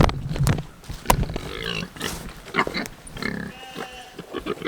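Pigs on a farm grunting and squealing loudly right after feeding, with close, repeated snorts and bursts of noise that overlap in a busy, uneven rhythm.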